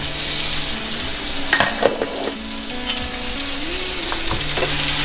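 Mango pieces fry in a covered pan for a sweet mango pachadi, giving a steady close sizzle throughout with a few brief stirring clatters midway.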